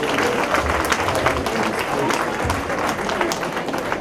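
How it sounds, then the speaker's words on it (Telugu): An audience bursts into loud, sustained clapping at a Telugu school function while a group photo is taken, dense applause filling the whole stretch with a faint voice or two underneath. "గ్రూప్ ఫోటో గట్టిగా చప్పట్లు కొట్టండి"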